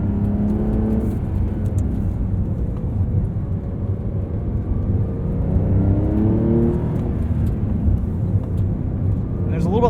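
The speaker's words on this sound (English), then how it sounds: "Quiets down quite a bit when you turn the sport exhaust mode off." A 2023 Porsche 911 Carrera T with a manual gearbox runs with its sport exhaust mode off, giving a steady, fairly subdued engine drone from inside the cabin that rises in pitch as the revs climb near the end.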